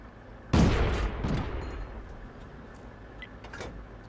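A tank cannon fires once in the World of Tanks video game, a single loud, sharp blast that decays over about a second, followed by faint mechanical ticks and a quieter distant report.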